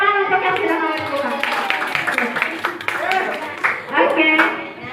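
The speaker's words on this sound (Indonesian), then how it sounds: "Tepuk tangan untuk yang sudah melakukan." A small group claps hands in a classroom or workshop session, scattered claps mixed with voices talking over them, close and fairly loud.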